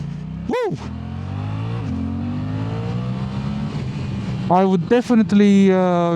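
A Suzuki GSX-8TT motorcycle engine drones steadily, with a quick throttle blip early on and several rising revs near the end, recorded close.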